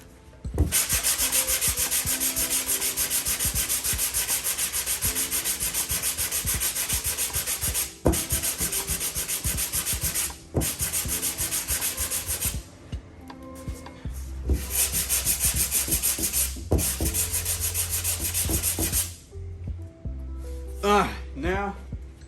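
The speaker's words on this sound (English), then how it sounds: "I would say do 80 grit for a little bit and then jump to something a lot smoother." Hand sanding with 80 grit sandpaper on the body of a 1995 Impala SS gives a continuous, loud scratchy rasp with brief pauses between strokes, while someone talks over it.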